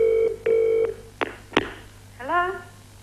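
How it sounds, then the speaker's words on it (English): A telephone rings in a television studio setting: two loud, steady electronic ring bursts, then sharp clicks and a short rising tone, with background talk and crowd noise. "It's ringing out."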